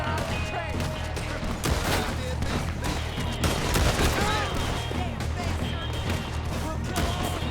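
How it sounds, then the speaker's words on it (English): A Gatling gun fires in Red Dead Redemption 2 during a loud, close firefight. Rapid continuous bursts mix with other gunfire and crashes, and voices are heard over the din. "we got a Gatling"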